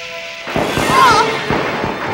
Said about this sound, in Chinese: 待会儿趁奶奶不注意的时候，可以偷偷放烟花